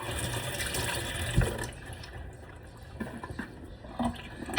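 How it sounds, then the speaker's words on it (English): Water splashes and runs into an emptied sauce can as it is rinsed out over a kitchen sink, a short close pour with a few sharper splashes and clinks near the end. "And then rinse it out, dump some water."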